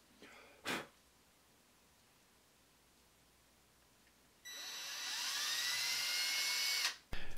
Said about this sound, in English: I still had to unclog the pinholes with a drill bit